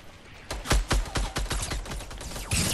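Rapid gunfire in a Fortnite match, a close, loud string of about a dozen evenly spaced shots in quick succession with no talk over them.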